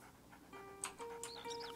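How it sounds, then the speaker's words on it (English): A dog panting in the video game A Plague Tale: Innocence, with soft, quick breaths close by. Tonal game chimes and a brief whine sound over it, and no one speaks. "Pet the doggy."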